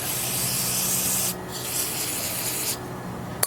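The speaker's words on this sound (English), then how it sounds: "Go ahead and just spray this guy off." Aerosol cleaner hisses steadily onto a fuel-stained part from a 1984 IT490 dirt bike, in two close bursts separated by a brief pause.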